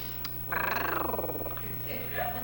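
A woman imitates a cat with a rolling, rhythmic purr-like trill lasting about a second, followed by a softer, higher vocal sound, all over a steady low hum.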